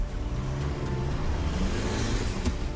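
Toyota Hilux driving fast through a 4WD course, a steady loud engine and road roar throughout with no breaks, surging slightly near the end.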